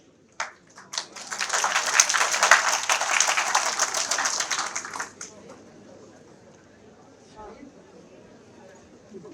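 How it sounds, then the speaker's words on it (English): Sustained applause from a convocation audience at IEM Kolkata, rising quickly and holding dense and steady for about five seconds before fading away. "Please, give a good round of applause for your student"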